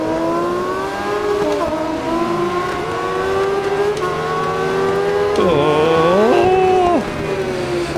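A 2016 MV Brutale 1090RR motorcycle racing in RIDE 4 at the Nurburgring GP Circuit, its engine droning loud and steady with revs rising and dropping through gear shifts, and a sharp down-and-up swoop near the end.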